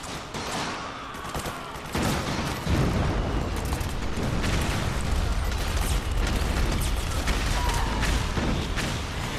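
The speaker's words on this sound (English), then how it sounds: "So many explosions." Dense, continuous barrage of explosions and rattling gunfire from the Metal Gear Solid 4: Guns of the Patriots video game, loud and chaotic throughout, swelling heavier after the first couple of seconds.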